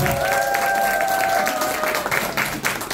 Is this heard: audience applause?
yes